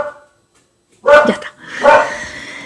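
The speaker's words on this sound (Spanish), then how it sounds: "tengo mi perro ladrando" A pet dog barks indoors twice, two loud close barks about a second apart, with a brief spoken word at the very end.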